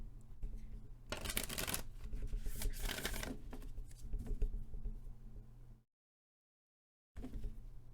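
Oracle cards riffle and slap in quick shuffling bursts, close and soft, broken by a short silent gap before the shuffling resumes.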